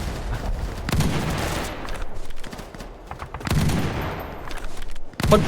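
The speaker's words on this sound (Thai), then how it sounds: "ปืนค่อนข้างที่จะกระตุกพอสมควรเลยนะครับ M60 ค่อนข้างแรง" An M60 machine gun fires in a border-war video game, with repeated rapid bursts of loud, punchy shots separated by short pauses.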